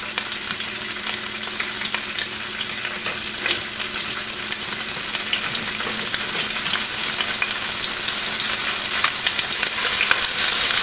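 Anchovies fry in hot olive oil with a dense, steady sizzle and crackle, close and unbroken, with faint stirring scrapes and no voices.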